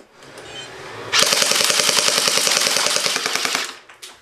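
A Glock pistol mounted on a vacuum robot fires full auto: a loud, rapid unbroken burst lasting about two and a half seconds, then stops, with a single shot at the very end.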